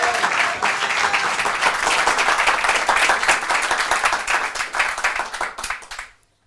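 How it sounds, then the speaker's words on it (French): A studio audience breaks into dense, loud applause for comedian Augustin Fourreau on a French television show, holding steady for several seconds before fading out abruptly. "je vous demande de l'applaudir très fort"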